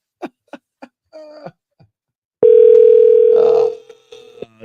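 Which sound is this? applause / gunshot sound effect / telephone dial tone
telephone dial tone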